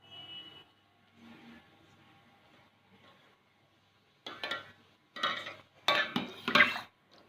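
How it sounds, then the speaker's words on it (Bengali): Rice flour batter for chitoi pitha is stirred with water in a bowl: faint, soft scraping at first, then several loud, close, uneven stirring and scraping strokes in quick succession, with no talk. "জল দিয়ে এটাকে মেশাবো।"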